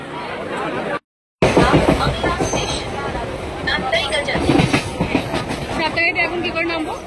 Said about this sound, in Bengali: 1 ঘন্টা 5 মিনিট ডিলে করে আমাদের মেদিনীপুর হাওড়া লোকাল এসে পৌঁছলো মেচেদা স্টেশনে